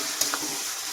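Mutton pieces and onion being stirred together in a hot pan for mutton curry, a quick scrape and faint sizzle against a steady frying hiss, brief and close.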